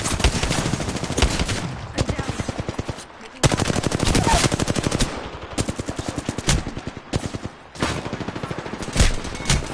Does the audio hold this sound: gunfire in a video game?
yes